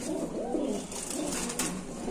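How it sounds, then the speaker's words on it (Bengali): Black lace pigeons at a pigeon market coo in repeated soft, throaty rolling phrases close by, with a steady background murmur throughout. "এখানে আছে ব্ল্যাক লেস কবুতর"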